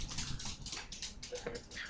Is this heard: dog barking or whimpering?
yes